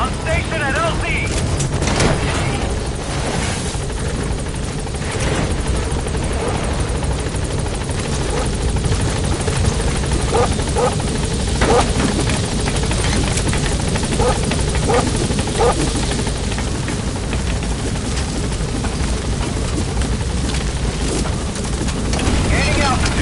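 The Pequod helicopter in Metal Gear Solid 5 hovering at a landing zone, a loud continuous rotor roar with wind noise filling the whole stretch, radio voices talking over it.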